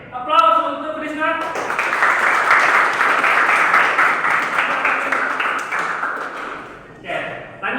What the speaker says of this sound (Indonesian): aplaus untuk Krisna